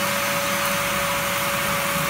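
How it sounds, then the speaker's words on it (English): Small cyclone dust extractor pulling suction with its blast gates closed, a loud, steady roaring whoosh with a fixed motor whine, close and constant throughout. "We're just going to show you how much suction this little system can generate."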